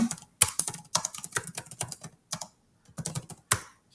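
Typing on a computer keyboard to enter a title, with irregular bursts of close, crisp key clicks separated by short pauses.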